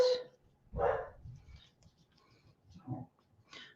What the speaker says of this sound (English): he went outside to bark